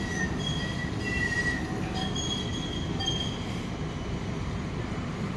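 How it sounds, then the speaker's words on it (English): A tram rolls past on the rails with a steady heavy rumble, and high wheel squeals sound over it now and then throughout. "You can see almost every tram is making a noise"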